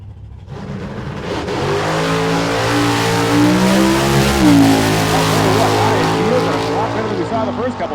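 A naturally aspirated big-block drag race car makes a pass at Hot Rod Drag Week, its loud, close engine revving hard with rising and falling harmonic tones, then a sustained roar that fades slightly toward the end.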